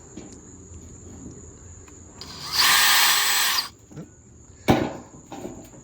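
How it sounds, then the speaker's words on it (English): A small bit drills a pilot hole in aluminum for a trash can root cellar, with one loud high whine lasting about a second, then a brief sharp burst, over quiet background. "To start, I'm going to start with this small drill bit and make the initial pilot hole"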